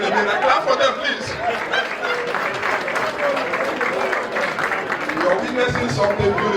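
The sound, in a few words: audience clapping for the women at Iri Ji festival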